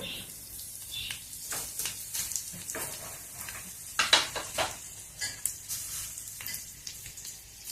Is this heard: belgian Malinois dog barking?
no